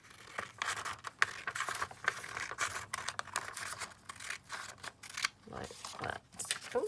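Scissors snipping through green collage paper, a quiet, close run of short crisp cuts and rustles in an irregular rhythm, with no talk.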